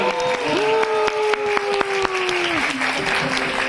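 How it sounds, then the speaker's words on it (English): An audience at a Buddhist convention award ceremony applauds steadily, dense clapping under a sustained tonal drone that shifts pitch partway through, with a few sharp louder claps standing out. "So massive round of applause for everyone."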